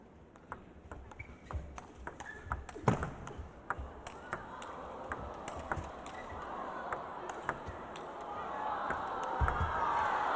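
A table tennis rally in a women's singles semifinal at the 2016 China Open, with sharp repeated ball pings and taps building into rising crowd cheering and applause toward the end, a commentator talking over it.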